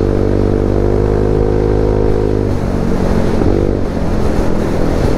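Italjet Dragster 200 scooter fitted with an Akrapovic exhaust, running loud and close with a steady engine drone that briefly drops and picks up again as the revs change.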